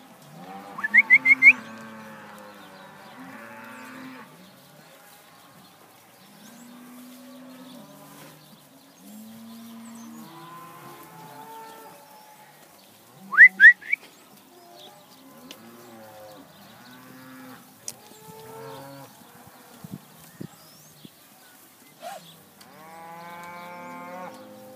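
Black baldie open heifers moo repeatedly, long low calls from several animals, some near and loud, others farther off, with occasional whistle-like high cries and quiet pauses between.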